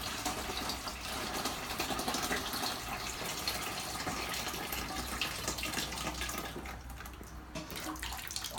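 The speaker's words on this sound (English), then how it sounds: "Now you just lift the valve up and the water flows right out." Water draining out of a toilet tank after the flush valve is lifted, a steady low rushing and gurgling flow that runs continuously and fairly quietly, with no talking.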